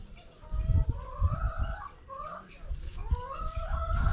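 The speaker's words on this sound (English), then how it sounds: "Look at that rooster." A rooster and hens call and cluck outdoors on an alpaca farm in Paola, Kansas, at moderate distance, over low rumbling background noise.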